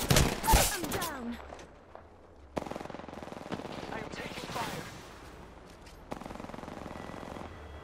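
Rapid automatic gunfire in the battle-royale shooter Apex Legends: sustained bursts of machine-gun fire ring out in several waves, with a loud flurry of shots at the start and in-game voices speaking over the shooting.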